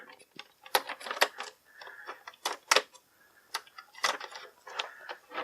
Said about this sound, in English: Cut this tape off.